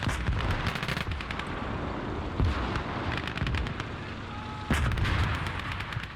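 Artillery bombardment in the WWII game Call to Arms: Gates of Hell, a rolling barrage of heavy booms and crackling blasts, several sharp loud impacts standing out over constant rumble.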